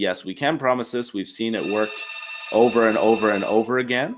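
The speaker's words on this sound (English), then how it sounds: "Sorry about the phone there" A telephone rings faintly in the background while someone talks continuously over it.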